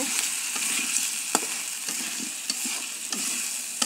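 Potatoes for aloo dum being stirred and sautéed in a pan, a soft, even sizzle punctuated by a few sharp scrapes and taps of the spoon.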